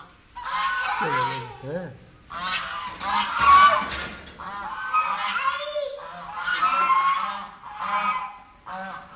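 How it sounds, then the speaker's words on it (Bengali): Geese or ducks honk repeatedly and loudly nearby in bursts of harsh, nasal calls, with a person speaking briefly among them. "এই যে হাঁসগুলোর দিক দেখো, এই যে হাঁস"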